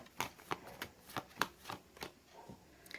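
Tarot cards being shuffled and drawn during a reading, heard as a series of soft, quick papery snaps and flicks in an irregular rhythm, close by and fairly quiet with no talking.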